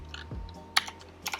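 Short burst of typing on a computer keyboard, a few close, distinct key clicks spaced unevenly over a quiet background.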